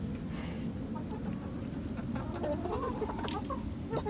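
Hens clucking softly and irregularly over a steady low background rumble, with a few sharper calls near the end.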